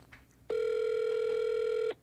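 A telephone dial tone from a home phone drones as one steady, clean tone for about a second and a half, starting and stopping abruptly, with quiet room noise on either side.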